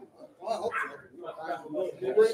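A dog giving a few short, close barks and yips in quick succession, mixed in with people talking nearby.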